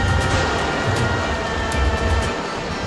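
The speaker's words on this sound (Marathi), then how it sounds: "मस्त वाहत आहे पाणी" Water rushes continuously through a forest stream on the way to the Palasdari waterfall near Karjat, a dense, loud, unbroken roar with no voices.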